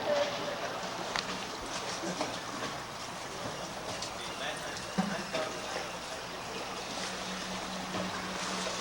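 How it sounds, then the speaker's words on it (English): Water runs steadily through an indoor rowing tank, a constant broad rushing flow filling the whole stretch, with faint knocks and people talking nearby underneath. "Do you mind the water being on?"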